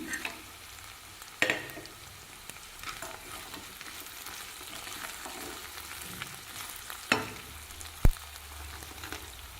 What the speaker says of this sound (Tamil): நான் இதிலேயே போட்டு வதக்கிக்கிறேங்க